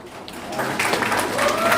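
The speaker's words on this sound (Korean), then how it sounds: "신부가 입장할 때 더 큰 환호와 함께 큰 박수 부탁드립니다" Wedding guests applaud and cheer as the bride enters the hall, a crowd of clapping quickly swelling to a steady, dense roar.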